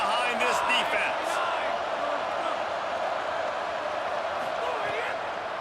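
A stadium crowd roars steadily in a college football video game, a TCU dynasty, during a big late third down, with a commentator talking over the dense wall of noise.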